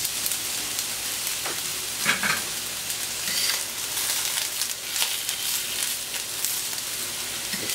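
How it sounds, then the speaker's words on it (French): Sweet peppers sizzle and crackle as they grill in a hot pan, a loud, continuous frying hiss with occasional sharper pops and stirring scrapes, and no voices. "Je vais mettre à griller quelques piments doux qui me restaient de l'année dernière"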